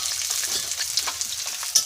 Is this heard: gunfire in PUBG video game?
no